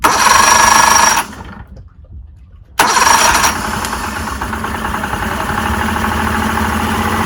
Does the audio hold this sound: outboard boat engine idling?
yes